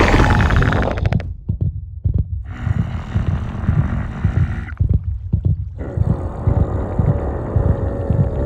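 The Minecraft warden's deep, throbbing heartbeat pulses in a steady rhythm, loud and close, with rumbling game sounds around it.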